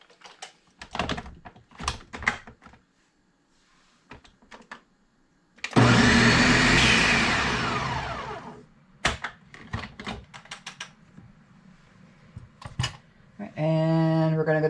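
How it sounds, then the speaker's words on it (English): A blender runs for a couple of seconds, puréeing butternut squash soup with broth, a loud whirring roar that winds down, surrounded by clinks and thumps of kitchen handling. "And we're going to blend this smooth."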